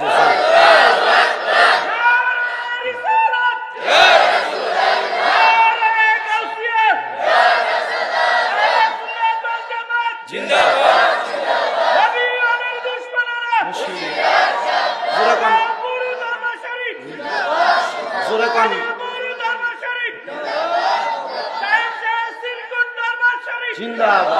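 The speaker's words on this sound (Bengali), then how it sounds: "ডান হাত তুলে উচ্চ কণ্ঠে আবার জোরে একটা তাকবীর দিও" A large crowd at a religious sermon shouts takbir in loud, repeated chanted bursts, about every three seconds, with a lead voice calling and the mass of voices answering.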